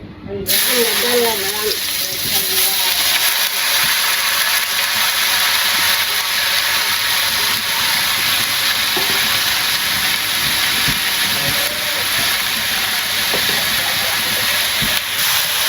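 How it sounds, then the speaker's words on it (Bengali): Water lily stems (shapla) sizzling in a hot pan in a village kitchen, a loud, continuous, close hiss that starts abruptly and holds steady throughout. "শাপলা রান্না হয়েছে এখানে।"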